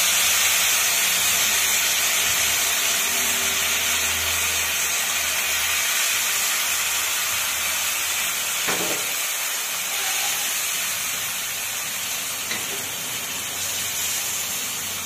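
A loud, continuous hiss of a tempering sizzling in hot oil fills the clip, easing slightly midway, with a few faint clinks near the end.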